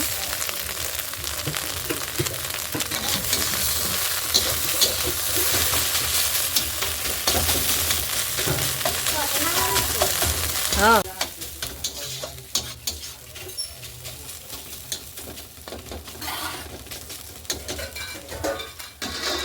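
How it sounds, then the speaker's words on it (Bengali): Egg fries in a pan with a loud continuous sizzle, joined by stirring scrapes and metallic clinks of a spatula against the pan; the hiss drops noticeably partway through while the clatter continues. "ডিমটা অল্প লাল করে ভেজে নেব"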